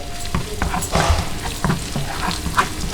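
Garlic sizzles steadily in hot oil, with occasional scraping and stirring sounds over the crackle.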